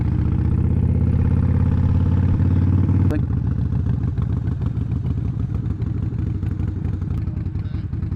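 A motorcycle engine, either a Kawasaki Ninja 1000 or a Honda CB500X, runs loud and close, with a steady low drone that turns into rougher, choppier pulsing partway through.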